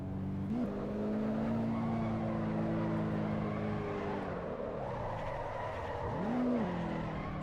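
A car drifts around the Suzuka circuit in the Assetto Corsa EVO racing game, its engine droning steadily at high revs with pitch rising and falling, plus tyre squeal through the slides, continuous and loud.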